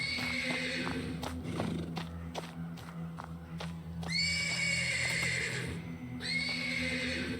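A horse in a stable neighs twice in long, loud whinnies, with some shuffling and hoof clops in between, and no one speaks.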